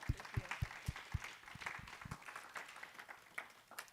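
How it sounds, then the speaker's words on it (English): A crowd at a livestreamed event applauds, starting with distinct near claps and blending into faint, scattered clapping that fades into a softer patter. "Please, one more round of applause for Alex Newman."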